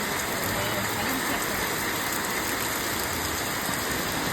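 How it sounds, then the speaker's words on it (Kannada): Heavy rain pours down in a dense, steady roar, loud and continuous throughout. "ಇಷ್ಟು ಮಳೆ ಬಹುಶಃ ಬರಲೇ ಇಲ್ವಾ ಹೇಳಿ,"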